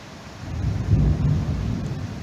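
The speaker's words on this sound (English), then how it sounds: "Major storm." Thunder swells to a heavy rolling rumble in the middle of a storm, over steady rain that hisses on surfaces. No one speaks.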